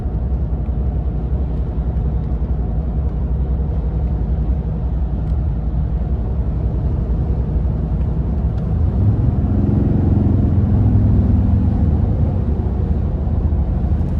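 Cabin of a 2024 RAM 2500 heavy-duty truck with the 6.7 Cummins diesel while driving: a steady low rumble and road drone, moderately quiet, swelling a little louder near the end, with no talking.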